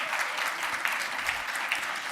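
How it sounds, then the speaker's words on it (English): An audience at a Women Entrepreneurship Week 2023 event claps steadily in a dense, continuous wash of applause, with a few sharper claps standing out and no voices over it. "Yes, big round of applause."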